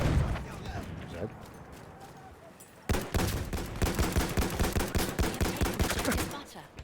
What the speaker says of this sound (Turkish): bak otomatik pompalı